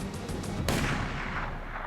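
One loud gunshot cracks over steady background noise, its echo rolling off and fading across the next second.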